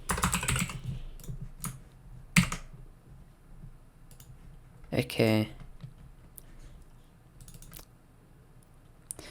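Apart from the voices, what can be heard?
typing code on a computer keyboard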